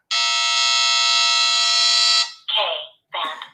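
An Escort Redline 360c radar detector sounds a K-band alert: a loud, steady electronic tone for about two seconds, then two short descending chirps, with no voice over it.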